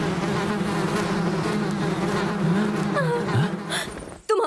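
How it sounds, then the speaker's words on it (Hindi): In a Hindi-dubbed cartoon, a swarm of bees gives off a steady, dense buzzing drone with a few short whooshing swoops near the end. "आहा, तो ये मधुमक्खियां बाहर आ गईं।"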